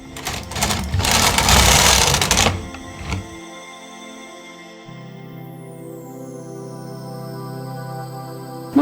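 A 1990s knitting machine carriage knits yarn, making a loud, busy rattling clatter for about two and a half seconds. A steady mechanical hum follows with a few faint clicks, and nobody speaks.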